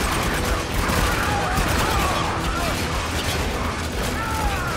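Dense, continuous gunfire and explosive clatter from a firefight in the video game Spec Ops: The Line, with machine gun bursts roaring steadily and loudly throughout, blended with other battle noise.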